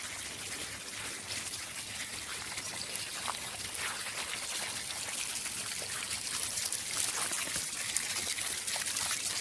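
Water trickling down a small stream built into a community garden, a steady close hiss of flowing water with no pauses and no voices.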